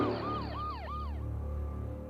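Ambulance siren wails in rising and falling sweeps for about a second, then fades to a lower steady hum over background noise; no voices are heard.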